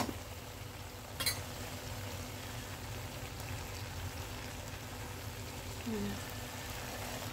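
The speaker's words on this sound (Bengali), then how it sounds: "আর এদিকে রান্না করতেছি কইন্দা ভাজিগুলো" Koinda fritters fry in a pan with a steady, even sizzle throughout, broken by a brief utensil clatter near the start.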